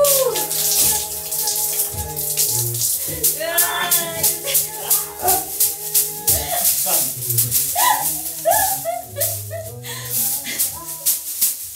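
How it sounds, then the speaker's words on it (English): Hot and cold water pour from two tubes into a basin during a road trip in Eastern Kazakhstan, a steady splashing stream running under background music and voices through most of the stretch. "We have hot water coming out of one tube and icy cold water from the other one."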